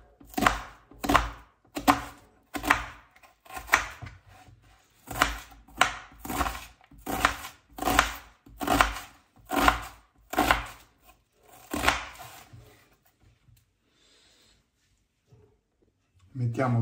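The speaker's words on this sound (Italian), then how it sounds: "Mi servirà metà cipolla che taglierò finemente." A kitchen knife finely chops half an onion on a board, sharp rhythmic thunks in steady bursts of quick strokes for about twelve seconds before stopping into near silence.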